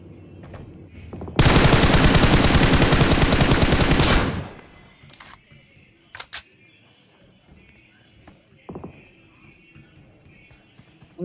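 Sustained automatic gunfire in the mobile battle-royale game BGMI, a loud, rapid burst of roughly three seconds followed by a few scattered sharp shots and clicks against quiet game ambience.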